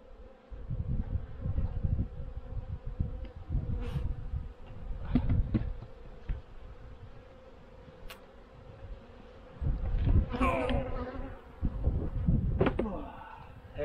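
Honeybees buzz steadily around a hive during a robbing frenzy at close range, with people talking over the hum and a few knocks of wooden parts being handled.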